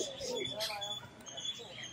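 Pigeons cooing softly at a food stand beside a pigeon cage, low repeated coos mixed with faint chirps, with a person talking over them throughout.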